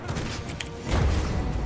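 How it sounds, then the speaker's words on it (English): Small explosions from a boss's ground attack in a video game, heard as a dense rumble of crackling blasts that swells louder partway through and stays loud to the end, with a few high tones above. "then you see all the little explosions that happen"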